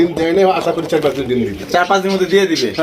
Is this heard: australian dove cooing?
yes